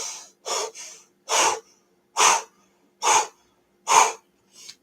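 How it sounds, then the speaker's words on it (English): Fast, deep breathing, shown as a technique: sharp, forceful breaths in and out through the nose in a quick, even rhythm, about seven loud puffs, close and with no talk. "Like this is a breathing technique."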